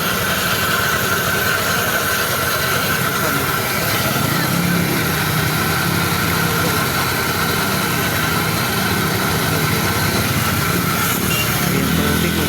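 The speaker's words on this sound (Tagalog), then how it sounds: "Pakinggan natin yung motor natin." A motorcycle engine runs at a steady idle while the bike sits in floodwater on a rain-soaked street in Marilao. The engine drones on continuously and loudly for the whole stretch, with no voices.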